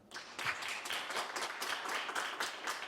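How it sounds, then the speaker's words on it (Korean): Audience clapping at a book concert, a lively burst of applause from a seated crowd welcoming a professor, continuous and moderately loud throughout. "큰 박수 부탁드립니다."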